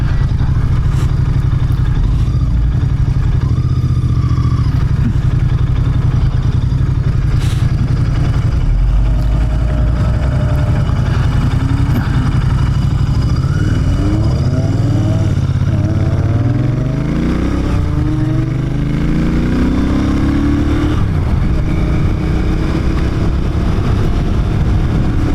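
Royal Enfield Interceptor 650 twin-cylinder motorcycle on the move, its engine thrumming loud and steady with rising and falling pitch through gear changes, under constant wind noise.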